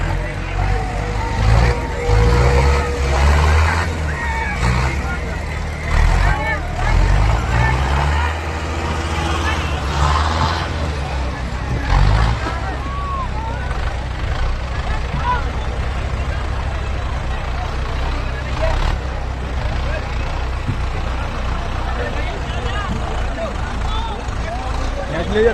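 A Farmtrac 6055 tractor engine labors under load in a tractor tug-of-war, a heavy continuous low diesel rumble with surging strain, beneath an excited commentator and crowd noise.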